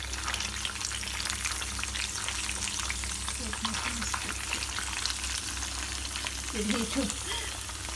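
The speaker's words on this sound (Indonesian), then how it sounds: "Minyaknya udah panas, kita goreng daging yang tadi udah aku geprek ya" Pounded beef for dry balado-style dendeng frying in hot oil, a dense, continuous sizzle and crackle throughout, with a few brief spoken words over it.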